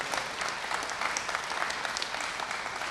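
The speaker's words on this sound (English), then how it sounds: "Can you give them a round of applause, please?" A seated audience applauds a mayor's staff at a transportation levy announcement, a steady, even wash of clapping that holds for the whole stretch without speech.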